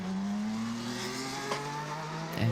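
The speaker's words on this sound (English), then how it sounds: "Just listen to the car accelerating." IndyCar race car at the Indianapolis 500 qualifying day accelerates on track, a loud rising engine whine climbing steadily in pitch, heard at a distance with no voices.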